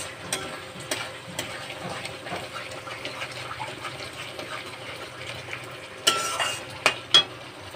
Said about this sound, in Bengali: লঙ্কা মশলাটা ভালো করে কষতে হবে